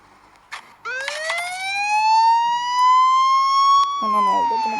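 Police car siren wailing during an escape mission in a driving video game, a loud rising tone that swells and holds steady for several seconds before shifting pitch, heard over brief game sounds.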